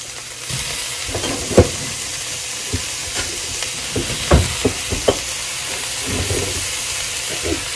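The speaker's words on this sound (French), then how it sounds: "Là, on va ajouter nos patates." Potatoes going into a pot for a seafood soup bring a steady sizzling hiss, marked by a few sharp clattering knocks and stirring noises near the pot, with no talking.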